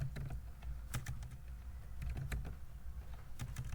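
Typing on a computer keyboard while filling in an Excel invoice: scattered, quiet key clicks in small bursts, close by, with no speech.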